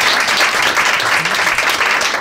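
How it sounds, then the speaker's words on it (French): An audience at a French comedy show applauds, a dense, loud, continuous wash of clapping throughout. "On peut l'applaudir, il s'est marié."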